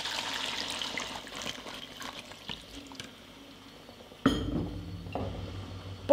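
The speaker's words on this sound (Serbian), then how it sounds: "Dodajem 300 ml vruće vode." Hot water goes into a pot of meat with an unsteady, soft splashing hiss, then a sharper clink of the pot and metal rings out near the end.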